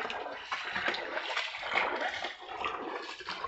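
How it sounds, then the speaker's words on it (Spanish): Flood water flows backward during a high tide at Trocadero, a steady rushing, splashing wash of water heard up close and continuous. "Ya mismo está el agua al revés, para atrás."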